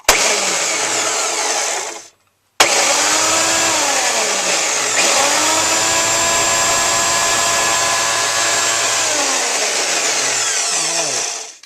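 The motor of a repaired belt sander in a machine shop spins up inside its housing with a loud rising whine. It cuts out briefly, then restarts and holds a steady high drone for several seconds before winding down.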